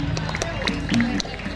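A crowd claps and cheers for the winners at the Ebeg Fest 2023 in Alun Alun Banjarnegara, scattered handclaps and shouts mixed with a loudspeaker voice and background music.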